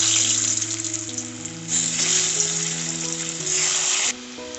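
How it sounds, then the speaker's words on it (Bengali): Potatoes frying in hot oil in a home kitchen while an egg and cauliflower-potato curry is being made, giving a steady close sizzle with bubbling crackle that swells and eases for several seconds, with no talking. "ওই তেলে এবার আলুগুলো ভেজে নেবো"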